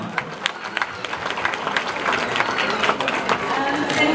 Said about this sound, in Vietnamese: cho một tràng pháo tay thật lớn để chào mừng cô Trần Huyền Trân